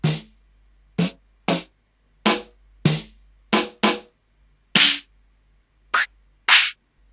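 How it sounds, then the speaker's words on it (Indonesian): Rim shots on a Roland TD-20X electronic drum kit, about a dozen sharp, crisp clicks in an uneven rhythm, each snapping off quickly into silence, played alone with no talking. "kalau ini suara rim shot biasa"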